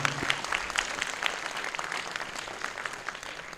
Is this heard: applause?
yes